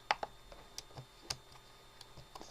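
Search words are typed on a computer keyboard, quiet close-up key clicks in an uneven patter with a couple of sharper taps, no speech.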